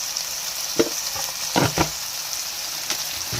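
Tomato and coriander sizzling in a pan, a steady frying hiss with a few scraping stirs of a spoon at irregular moments, close and alone without talk.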